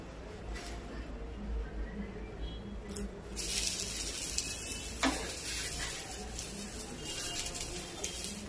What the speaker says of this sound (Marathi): मी तवा तापत ठेवलं होतं, त्याच्यावरती तेल टाकलं होतं। आता आपण इथे फ्रँकी ठेवूया त्याच्यावरती।